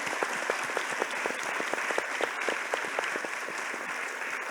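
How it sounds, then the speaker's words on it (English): A plenary audience at a summit on safe and just communities applauds the panel, steady dense clapping from many hands sustained throughout without a break. "Once more, a big round of applause for our panel and for you all"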